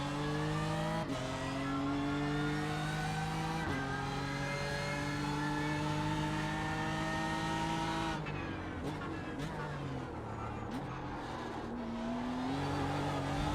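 A BMW M4 GT3 race car in the iRacing video game roars under sustained engine load, then drops through several quick downshifts with sharp engine-braking blips and falling revs, loud and close.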